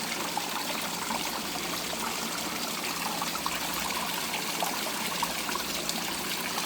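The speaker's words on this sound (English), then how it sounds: "I can actually move this rock, and that will completely change the way that flows, the way it splashes." Water in a garden flows and splashes over rocks, a steady broadband rush with fine trickling texture that holds constant throughout, close and fairly loud, with no voices.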